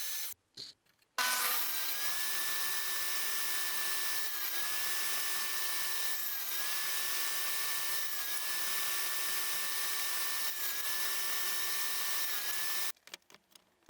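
Wooden corner pieces for a firewood box being trimmed to width with a power tool: a loud, steady machine whine that starts abruptly and runs about eleven seconds, with slight periodic dips, then cuts off.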